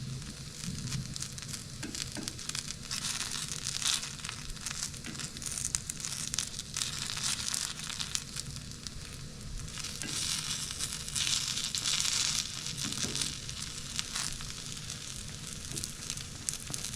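Takoyaki batter sizzles in a hot takoyaki pan, a constant crackling hiss with bursts of popping and faint scraping as the balls are turned, close and unbroken throughout.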